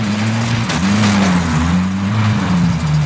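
A car engine droning steadily in Call of Duty: Warzone, a loud, close hum that wavers in pitch as the vehicle drives, with no talking over it.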